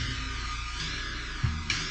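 A textured sample processed with a cranked-up halftime effect sounds slowed and smeared across the top while the low end keeps its steady rhythm, with a dense, continuous wash and no voices.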